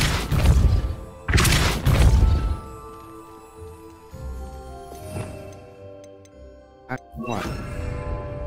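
Depulso spell cast in Hogwarts Legacy: a loud pair of booming, crashing blasts at the start, followed by quieter thuds, knocks and ringing magical tones, with a voice speaking partway through.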